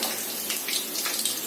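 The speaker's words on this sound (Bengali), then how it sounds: "আলুটা আমি দিয়ে দিচ্ছি, আলুটা একটু লাল করে ভাজবো" Potatoes frying in oil in a pan for a Bengali chicken curry, a bright hissing sizzle with brief crackling bursts, steady and close, no speech.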